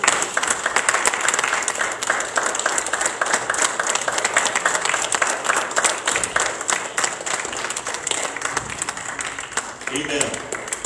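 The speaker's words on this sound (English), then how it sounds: "Stand and give the Lord a round of applause." A church congregation standing to give a loud, sustained round of applause in a Sunday morning service, dense clapping throughout with a voice speaking over it near the end.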